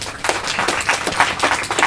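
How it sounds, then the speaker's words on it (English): Audience applause for Richard Flaherty, CEO of Cancer Care West, at a Super Valu charity launch in Clifden, with a steady patter of claps filling the room for a couple of seconds. "a little round of applause for Richard Flaherty"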